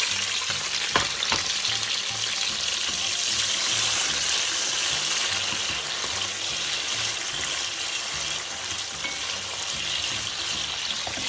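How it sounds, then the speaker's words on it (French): Tomatoes frying in oil in a pan for spaghetti alla chitarra, giving a continuous, close, hissing sizzle with occasional stirring clatter, steady throughout. "Et maintenant, j'ajoute mes tomates dans l'huile."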